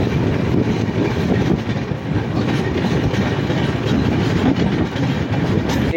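The 13147 Uttar Banga Express runs non-stop toward New Jalpaiguri, a loud, continuous rumble of rolling wheels and carriages with a steady clatter, heard from inside the train.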